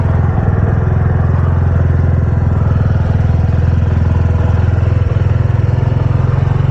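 A motorcycle engine runs loud and close, a steady, even throb with a mechanical clatter that holds for several seconds. No one speaks.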